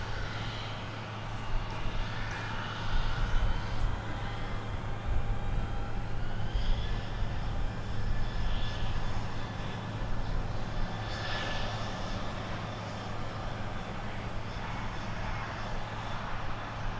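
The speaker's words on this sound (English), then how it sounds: "I hear a plane coming at us now." A jet airliner at DFW Airport rumbles past steadily for the whole stretch, a broad continuous engine roar with a faint whine on top and no voices.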